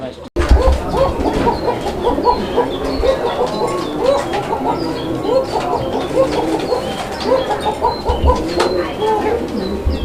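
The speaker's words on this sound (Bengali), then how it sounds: "কোকা কবুতরের যে ডাকটা আমি আপনাদেরকে দেখানোর চেষ্টা করলাম" Many fancy pigeons coo and call continuously at close range, a dense overlapping chorus of throaty coos, with clucking fowl mixed in.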